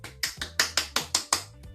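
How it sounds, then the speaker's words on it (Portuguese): A quick run of about seven sharp claps, evenly spaced and close, follows a children's story told during a school inclusion-education presentation, with no talking over them. "pode bater palmas"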